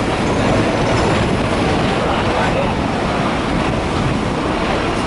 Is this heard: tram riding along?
yes